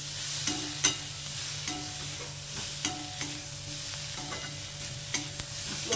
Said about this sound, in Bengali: তো এবার মশলাটাকে একটু ভালো করে কষিয়ে নেব।